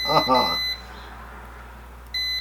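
An iFixit continuity tester gives a steady high electronic beep when its probes touch. A short beep follows a brief burst of speech, and a second beep starts near the end, clear and close.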